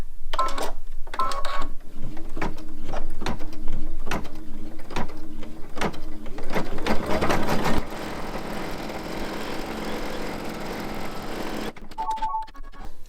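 An embroidery machine stitching the tack-down step of a blanket-stitch appliqué on a blanket, a rapid rhythmic mechanical clatter of needle strikes up close, shifting to a quieter steady whir before brief beeps at the end.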